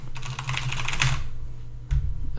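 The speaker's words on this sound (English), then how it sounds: "You're doing the keys, the clickety-clacks?" Computer keyboard typing during a game of Halo, a close burst of rapid clicky keystrokes that stops abruptly, followed by a brief thump and a low steady hum.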